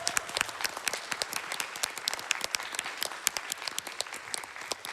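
Audience applause fills a crowded hall at the AGDQ 2019 speedrun marathon after a Resident Evil run, a dense, steady wash of many hands clapping with scattered sharper claps throughout.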